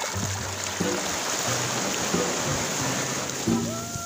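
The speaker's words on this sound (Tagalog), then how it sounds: "Grabe yung alon, ano?" Sea waves wash steadily at a beach, a continuous broadband surf rush with a low rumbling undertone, while faint voices and thumps come through now and then.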